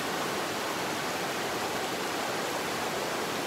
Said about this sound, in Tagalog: Lumaki yung ilog dahil sa ulan.